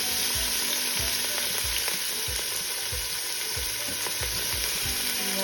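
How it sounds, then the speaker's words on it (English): Salted and peppered birria meat searing in a Ninja pressure cooker, a continuous close sizzle with rhythmic low thumps and scraping as pieces are moved and turned, no voices. "Now we're just gonna put them in. Make sure it's browned on all sides."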